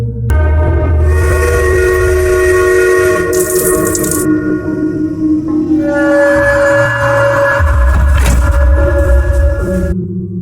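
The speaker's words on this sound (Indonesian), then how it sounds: "terdengar suara peluit menandakan jam merah" A loud steam-style whistle at a sugar factory blows twice in long sustained blasts, each held several seconds over a low rumbling drone, marking the red hour at nine at night.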